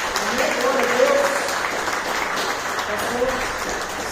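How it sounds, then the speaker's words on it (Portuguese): A church congregation claps together in praise during a service, a dense, steady patter of many hands lasting several seconds, with voices calling out faintly beneath it. "Vamos aplaudir o Senhor."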